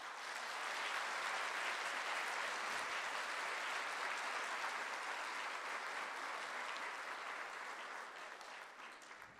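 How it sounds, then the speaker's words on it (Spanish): A large audience at a graduation ceremony claps in sustained, dense applause for the graduates' families, loud and even for most of the stretch before easing off slightly at the end, with no speech over it. "les pido que en este momento les otorguemos un fuerte aplauso a ellos"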